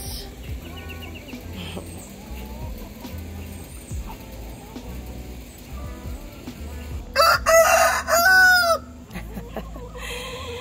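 On a farm, hens murmur and cluck softly against low background noise, and then a rooster crows loudly and close for about two seconds, followed by more quiet clucking.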